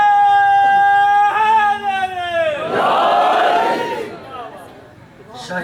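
A crowd at a Shia religious gathering in Pakpattan Chowk, Sahiwal, Pakistan, shouts slogans in unison, a loud sustained chorus that swells and then fades, following a single voice's drawn-out call.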